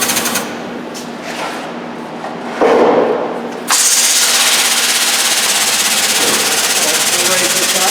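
A rotary 4-post hoist raising a Ford Expedition in a workshop, quiet at first with brief bursts of air hiss, then a loud, continuous hydraulic or pneumatic hiss and rumble kicking in partway through and holding steady.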